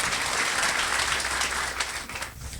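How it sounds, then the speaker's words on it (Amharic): A church congregation breaks into loud, dense applause that holds steady for about two seconds, then thins and fades out. "ጉባኤ አጨብጭቡ ለጌታ ክብርስ"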